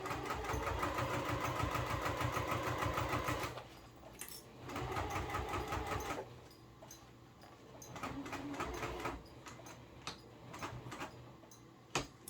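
A sewing machine stitches an exterior seam on a business bag, running in fast steady bursts with brief pauses between runs, close and loud with no voices.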